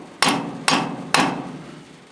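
Three solid blows from a rubber hammer land on an antique John Deere tractor clutch part, spaced roughly half a second apart. Each thwack is close and loud and fades with a brief metallic ring.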